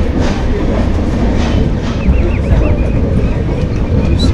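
Rishikesh Express train rushing past in a loud, steady roar of wheels and carriages, with a brief whistling squeal partway through, close and continuous throughout.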